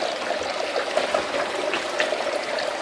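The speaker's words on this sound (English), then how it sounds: "I just want to make sure this thing doesn't pump too much water in there too quick" Water from a pump pours steadily into a container, a continuous close trickling and splashing rush with no talk over it.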